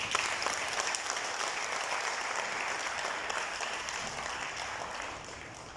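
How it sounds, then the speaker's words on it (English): Steady, dense applause from an audience at an award ceremony for a green ranger program, sustained and even throughout with no voices breaking through. "Sous vos applaudissements pour nous."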